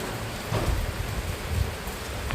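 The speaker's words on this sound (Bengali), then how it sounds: "আর বৃষ্টিটা দেখাচ্ছি, ঝমঝম করে বৃষ্টি হচ্ছে" Heavy rain pours steadily in a village setting, a dense, constant hiss with slight low rumbles, close and loud throughout and with no voices.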